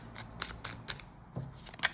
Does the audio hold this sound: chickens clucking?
no